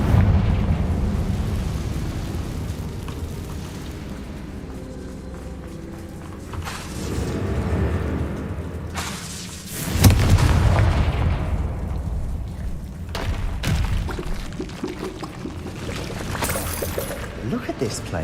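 A Confringo fire spell bursts in Hogwarts Legacy, a booming explosion rumbling up amid game music and effects, with a sharp loud blast near the middle and heavy low rumble trailing off.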